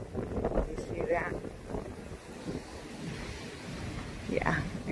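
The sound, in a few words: strong wind blowing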